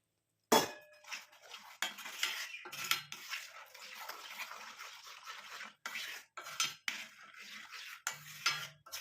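Homemade herbal hair dye being stirred in a bowl, a spoon scraping and clinking against the sides in an irregular run of close, moderately loud strokes with short pauses, no talking.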